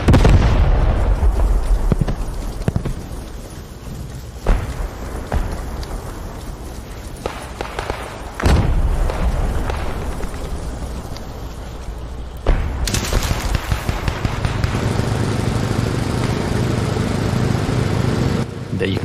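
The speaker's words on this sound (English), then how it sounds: "the audio is just fantastic in both the titles, with the huge explosions and ricochets and fire going over your head and explosions." Explosions and gunfire echo through a World War II battle in the video game Post Scriptum, with a dense, continuous roar broken by sharp booming blasts at irregular intervals, loud and close throughout.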